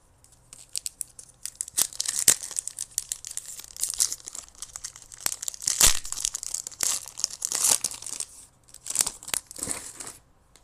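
Foil wrappers of Lorcana Winterspell trading card booster packs are crinkled and torn open in quick bursts, with sharp rips and steady rustling close by through the whole stretch, no talking.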